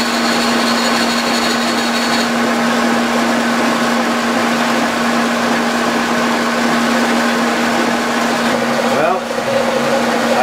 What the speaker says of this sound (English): we're going to use the 2-inch shell mill here to go ahead and